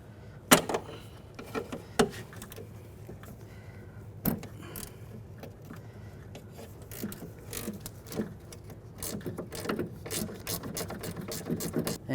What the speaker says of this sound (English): This one I'm just going to use a 10mm ratchet wrench.